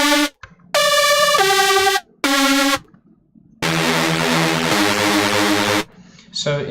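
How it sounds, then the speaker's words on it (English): A detuned Reese bass patch from Massive sounds as separate held synth notes with brief silences between them, ending in a longer, thicker low chord, loud and close with no voices. "you can already tell that's a Reese."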